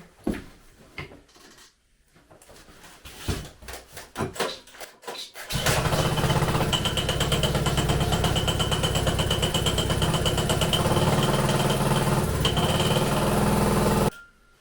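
A walk-behind tractor engine fitted to a drift trike catches after several sputtering start attempts, then roars at high revs, loud, steady and close, before cutting off abruptly.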